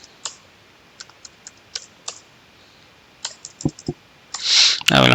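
A password typed on a computer keyboard: a few sparse, close key clicks spaced irregularly, then a short cluster of taps, ending in a louder burst of noise.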